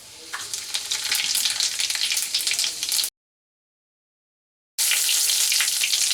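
Half a teaspoon of whole cumin seeds sizzling in hot mustard oil in a kitchen pan, a loud crackling fry that breaks off into silence midway and then resumes just as strongly.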